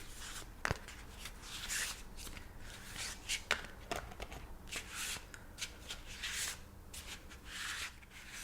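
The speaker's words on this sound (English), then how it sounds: "And we'll give them a nice good shuffle." Tarot cards being shuffled in a steady riffling rustle, with a few sharper snaps and taps, close and fairly quiet, no talking.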